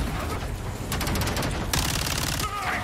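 An M870 shotgun fires in Call of Duty Modern Warfare II, booming reports amid dense game gunfire and effects, steady and loud throughout the short stretch.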